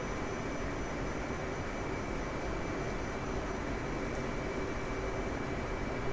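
An F/A-18C jet taxiing on an airfield in a flight sim gives a steady, even engine drone and whine with constant broadband rumble, unchanging and uninterrupted.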